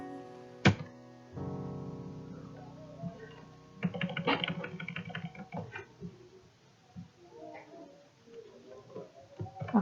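Keyboard shortcuts tapped out while copying and pasting data in MS Excel, a short scatter of light clicks and taps at close range, mixed with faint background noises and no clear talk.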